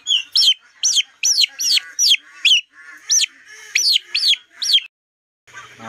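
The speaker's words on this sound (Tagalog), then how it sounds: "gutom na yung mga itik ko" Hungry layer ducks call in a quick series of about a dozen sharp, high, rising-and-falling cries over roughly five seconds, then fall silent before a soft rustle.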